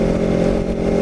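Steady motorcycle engine droning continuously on a ride along Town Bank Road near Cape May in December, close and loud with a mid-pitched hum and slight revving, no talk.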